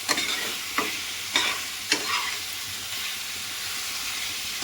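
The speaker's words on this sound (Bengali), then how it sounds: "এবার ভালো মতো একসঙ্গে কষাতে থাকবো" Potatoes and spices being sautéed together in a pan: a handful of sharp spatula scrapes early on over a low continuous sizzle, close up, with no voices.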